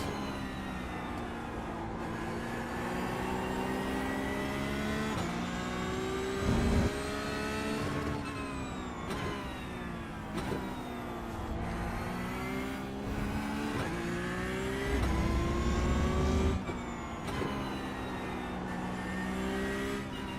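A Porsche race car in the iRacing video game drives hard, its engine droning and rising through the revs with gear shifts and occasional thumps, loud and continuous from the cockpit.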